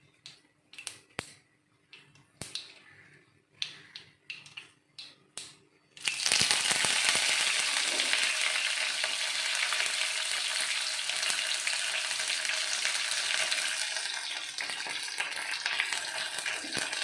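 Cumin seeds splutter in hot oil for Kerala okra thoran: scattered sharp pops and clicks at first, then a sudden loud, dense sizzle that carries on steadily to the end.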